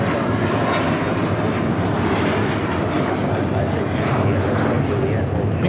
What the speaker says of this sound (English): Mighty Mo taking off to Fort Lauderdale, JetBlue 1700 on the A321